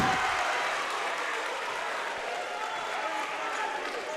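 Steady roar of a crowd cheering in a gym at a Sequoyah vs Cherokee girls basketball game, broad and continuous, with people talking underneath.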